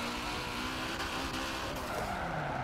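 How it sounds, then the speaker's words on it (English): A car drifting in a racing video game played with a wheel and pedals, steady engine roar layered with sustained tire squeal, continuous and loud throughout with no voices. "See if we can't get some good drift runs here."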